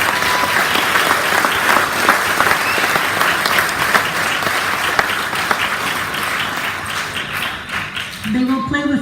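A crowd at a Canada Day 150 reception in Bridgetown applauds a cadet band with dense, loud, continuous clapping for several seconds, easing off near the end as a voice begins speaking.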